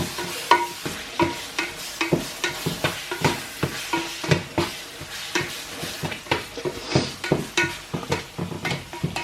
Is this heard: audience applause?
no